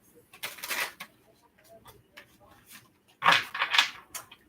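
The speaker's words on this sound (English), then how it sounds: "Final shuffle." Tarot cards are shuffled in a few quick papery riffling bursts, one near the start and a louder one near the end, with quieter handling between.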